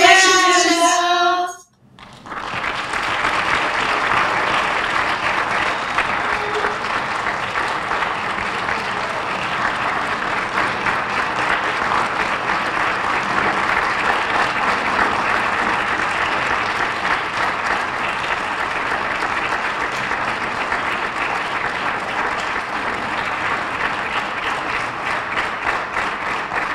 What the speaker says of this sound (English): we weren't finished clapping